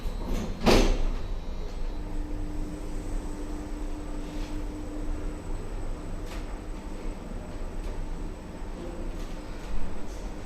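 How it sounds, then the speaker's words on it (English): Schindler Eurolift elevator rear door sliding shut with a sharp clunk near the start, then a steady mechanical hum throughout, with a faint thud near the end. "Rear door closing."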